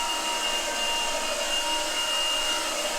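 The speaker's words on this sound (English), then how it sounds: "you just press this button. And you can start vacuuming" Shark SV1106 cordless stick vacuum running steadily, a close, constant motor whine with a high-pitched tone and airy rush, no voices.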